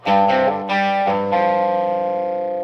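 Distorted electric guitar with an echo effect, from the original tape of the Beatles' Paperback Writer: a few quick, hard-attacked notes in succession, each ringing out, the last one sustaining and slowly fading.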